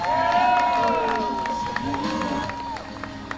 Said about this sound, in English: Can we give a round of applause for all those sponsors